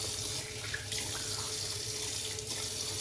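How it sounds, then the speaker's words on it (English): Water sprinkled onto a shaving brush while building lather with wool fat shaving soap, a steady close splashing and trickling hiss that sounds like a running tap, with no talking. "All I'm doing is sprinkling water on the brush as I typically do."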